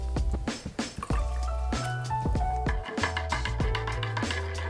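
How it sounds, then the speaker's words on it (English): Black tea is poured into a shaker, with a liquid splashing and dripping, wet squishy sounds and a few clinks, all close and fairly loud with no talking. "and pour the black tea into your shaker"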